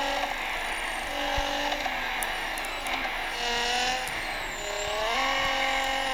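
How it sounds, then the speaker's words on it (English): A car skidding about in a driving video game, engine whine rising and falling with tire squeal and scraping, continuous and moderately loud with no voices. "God, this does know how to skid about, don't she?"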